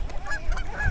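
Geese honk on an island by a pond, a few nasal honks close by and loud, with no talk.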